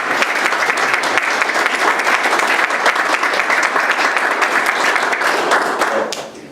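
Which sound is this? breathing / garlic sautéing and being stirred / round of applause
round of applause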